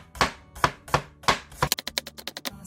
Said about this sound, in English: Let's chop the leek.